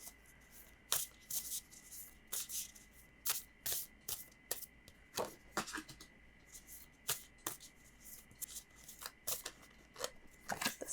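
Cards are drawn and handled from an Affirmators oracle deck. Crisp, close riffling and snapping bursts come in an irregular series against a quiet background, with no voice.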